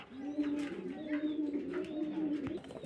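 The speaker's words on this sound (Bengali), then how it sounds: "এখানে একজোড়া ব্ল্যাক মুন্ডিয়ান আছে" A pair of black Mundian pigeons coos in a steady, rolling low call that repeats without pause and sits close and clear, with a few faint chirps behind it.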